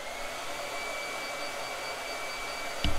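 A handheld blow dryer runs with a steady, even whooshing hum throughout, ending with a brief thump, and no one speaks.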